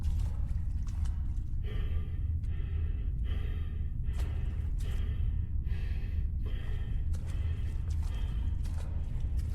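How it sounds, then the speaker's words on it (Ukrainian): Heavy, rasping breaths repeat in a steady rhythm, about one every second, inside the horror shooter video game Deppart, over a low rumbling ambience. "У нас там хтось дихає."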